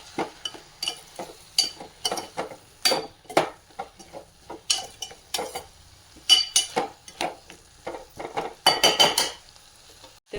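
Amla sambar being stirred with a metal spoon in a pot, with loud, uneven scraping and clinks against the pot rim, ending with a lid set on top.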